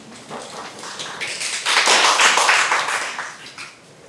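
Applause from a gathered audience at a Korean civic group's press conference, swelling to a dense peak midway and then thinning out, with no talking over it.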